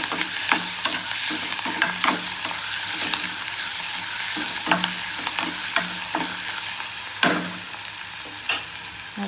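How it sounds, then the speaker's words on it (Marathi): Chopped onions with coriander leaves fry and are stirred in a pan for a spicy brinjal bharta, a constant loud sizzle broken by repeated scraping strokes of a spatula, close up and without speech. "चांगलं मिक्स करून घेऊ."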